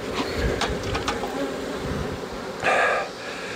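Honeybees buzz steadily and close by throughout a hive inspection that uses a smoker, with a brief louder swell of buzzing near the end and no talking.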